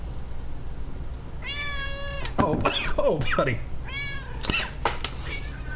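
A pet cat meows twice indoors, each a drawn-out, rising and falling call, with a voice speaking affectionately between and over the meows.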